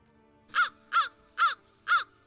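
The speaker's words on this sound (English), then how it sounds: "That's a lot of different noises they make." A crow caws four times in an even, steady rhythm, each call harsh, loud and close, with no other sounds around it.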